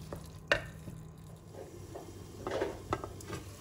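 Mint leaves sautéing in a pan for a Tamil lima bean rice dish, a quiet sizzle under scattered clinks and scrapes of a spoon stirring against the pan.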